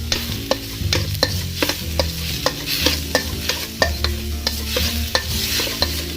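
Grated coconut roasts in ghee for a Malabar-style pathiri dish, with a spoon scraping and stirring in a regular rhythm of distinct strokes over a low, continuous sizzle, close and clear, with no speech.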